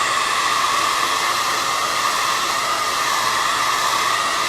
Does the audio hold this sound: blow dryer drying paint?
yes